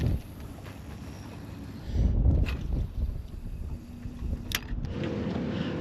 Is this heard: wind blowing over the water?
yes